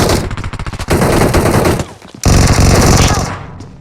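Dense automatic gunfire from a video game blasts in long, loud bursts, with a brief dip in the middle before another heavy volley of rapid shots.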